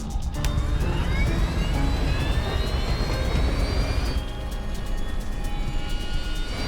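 A jet airliner engine roars loudly and steadily in flight, with a rising whine sweeping upward through the run as the left engine relights after a dual engine failure about 5,000 feet above the ground; no talk over it.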